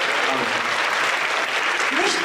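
Steady applause from a crowd at a Christmas carol and pastoral song festival, with a voice calling out briefly over the clapping.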